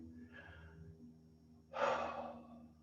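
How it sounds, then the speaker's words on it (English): A slow, deep inhalation, faint at first and then swelling into a clear, airy breath in a quiet room during a calm guided relaxation session. "Now take a deep breath in"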